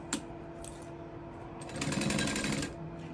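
A sewing machine stitching a leather sling with a quarter-inch seam, a brief rapid mechanical rattle of stitching for about a second, preceded by a couple of isolated clicks, close and moderately loud.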